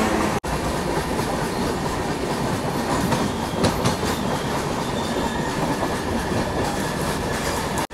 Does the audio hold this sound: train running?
yes